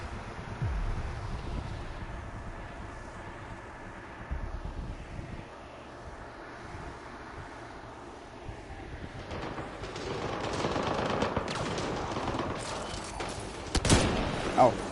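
Gunfire from the Mass Effect Andromeda video game: loud clustered shots and bursts amid a dense battle soundscape that grows busier and more intense toward the end.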